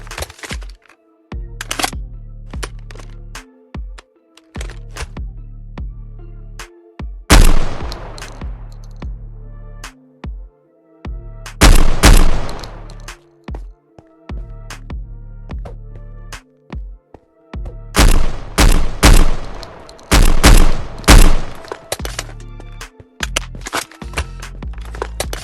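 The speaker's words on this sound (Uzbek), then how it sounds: "Keyingi qurol nomi AA12 ekan. Buni hozir animatsiyasini ko'ramiz." An AA12 shotgun firing in the Minecraft TacZ gun mod sends out loud, sharp blasts in several rapid clusters, separated by quieter gaps of softer mechanical handling sounds.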